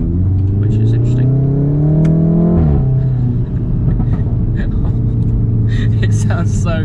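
Volkswagen Golf R engine revving loudly, a steady drone that climbs in pitch for a couple of seconds, drops sharply, then settles into a lower throb, with people talking over it.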